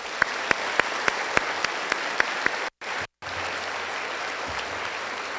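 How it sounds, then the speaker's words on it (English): Students and guests in school bleachers applaud veterans at a Veterans Day celebration, a steady crowd wash of clapping with a few sharper claps standing out, briefly cut out before resuming. "let's give our veterans one more round of applause"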